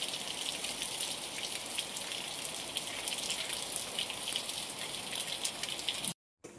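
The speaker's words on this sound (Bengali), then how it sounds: "প্রচন্ড পরিমাণে বৃষ্টি হচ্ছে দেখো, আর খুব বিদ্যুৎ চমকাচ্ছে, মেঘ চমকাচ্ছে" Heavy rain falls during a stormy afternoon, a dense, steady, loud hiss of drops that carries on unbroken for about six seconds with no voices, then cuts off briefly.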